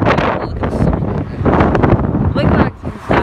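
Strong wind gusts buffet the microphone at a railway level crossing, a loud, continuous roaring rumble with surging bursts, heard alongside a person talking.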